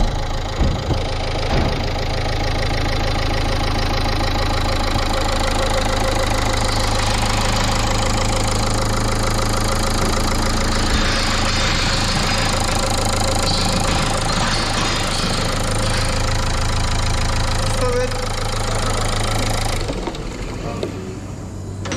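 A Renault Clio 4 engine idles steadily in a workshop after timing belt service, a constant close mechanical hum with a faint ticking texture that runs throughout and drops slightly near the end.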